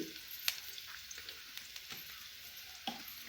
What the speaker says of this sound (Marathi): आता हे बघ जिरी टाकते जिरी